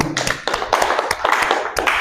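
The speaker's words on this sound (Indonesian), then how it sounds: "tepuk tangan untuk kita semua" Brief scattered clapping from a small lecture class, irregular hand claps of uneven loudness rather than a full ovation, lasting about two seconds with no speech.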